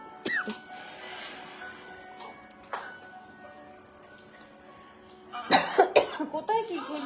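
A person gives a quick cluster of close, sharp coughs near the end, after a stretch of quiet room tone with faint background noise.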